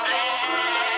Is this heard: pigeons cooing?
no